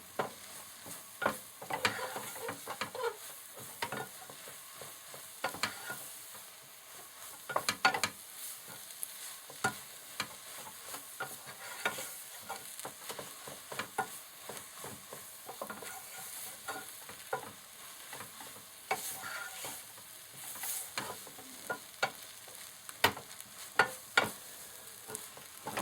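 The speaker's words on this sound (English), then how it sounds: "if you keep on stirring like that, you can get nice" Noodles being stirred and fried in a pot with leek: a steady sizzle runs throughout, broken by frequent scraping and clattering strokes of the utensil, close and fairly quiet, with no talking.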